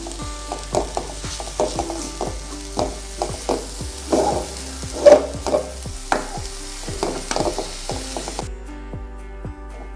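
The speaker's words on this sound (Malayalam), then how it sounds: "ഇനി നമുക്ക് ഇതെല്ലാം കൂടി നന്നായി ഒന്ന് മിക്സാക്കി എടുക്കാം" A thick mixture of green gram, banana and jaggery syrup being stirred in a pan, with repeated rhythmic scraping strokes of the spoon, close and clear with no talking.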